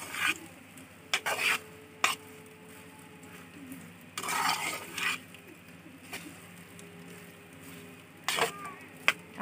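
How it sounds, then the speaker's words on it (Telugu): Ingredients for cumin rice fry in oil in a pan, giving a soft continuous sizzle broken by bursts of scraping and stirring. "వెంటనే కలుపుకోవాలి నూనెలో కొంచెంసేపు ఫ్రై చేసుకోవాలి"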